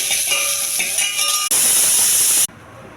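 A pressure cooker on a stove releasing steam while dal with spinach cooks, a loud sharp hiss for about a second before cutting off, with quieter kitchen hiss around it.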